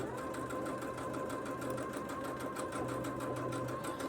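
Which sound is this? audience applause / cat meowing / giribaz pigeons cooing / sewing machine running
sewing machine running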